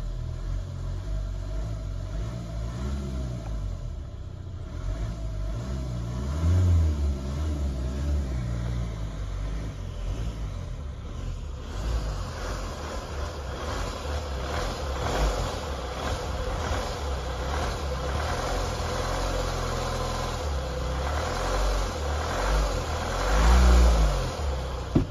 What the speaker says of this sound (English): it sort of rattles as the engine speed increases